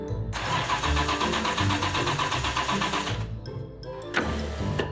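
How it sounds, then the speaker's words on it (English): Engine of a 1967 Aston Martin DB6 classic car, a close, steady mid-pitched idle and purr as the car rolls out of a showroom, dropping away briefly before picking up again. "Another opportunity to hear the purr of the DB6 engine as it glides effortlessly"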